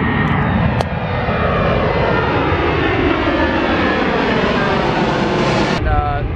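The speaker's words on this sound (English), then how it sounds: "Check this plane out." Fixed-wing airplane engine roaring loudly and continuously as it passes overhead, a dense broadband drone that dominates throughout with a sharp knock near the start and a clatter near the end.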